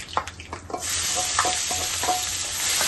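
Chopped onion and a few garlic cloves go into a hot pan for a Tamil-style siru keerai stir-fry, hitting with a rising sizzle and scraping stirs that settle into a steady, close frying hiss.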